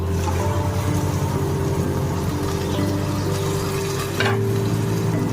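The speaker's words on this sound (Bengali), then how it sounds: "এবার এখানে আমি ভেজে রাখা চিকেনগুলো দিয়ে দিচ্ছি।" Pre-fried chicken pieces are added to a spice masala cooking over low to medium heat, giving a loud, dense sizzle with a brief scraping rush partway through.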